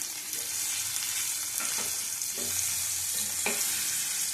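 Boiled potatoes frying in hot oil, with a bright continuous sizzle and a few soft stirring scrapes underneath.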